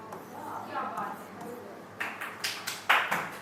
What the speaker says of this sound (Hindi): इसमें क्या ताली बजा रहे हैं